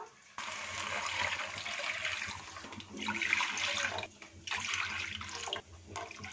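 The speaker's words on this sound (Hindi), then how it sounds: "4 प्याली इसमें पानी चला गया है।" Water pours steadily into a pot of rice for fried rice, a broad rushing splash that runs in bursts with short breaks between them, close and fairly loud with no voices.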